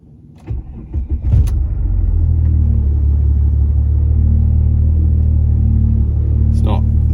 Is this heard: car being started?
yes